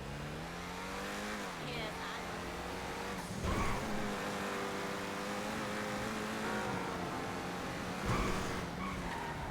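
Car engine droning steadily while driving in Grand Theft Auto Online, with a continuous hum that swells briefly around the middle and near the end, partly under a man's speech.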